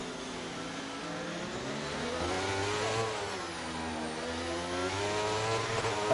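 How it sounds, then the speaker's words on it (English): A Formula 1 car engine in the F1 23 racing game at Monaco revs high through its gears, a loud buzzing whine that rises and falls in pitch continuously, with no talking over it. "he's just revving out on his gears"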